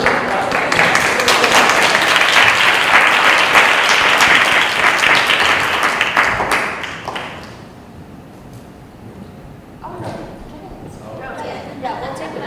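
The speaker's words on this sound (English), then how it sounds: "Yeah, round of applause." Round of applause at a school committee meeting, loud sustained clapping from the room that fades after several seconds into quieter murmuring and a brief second patter.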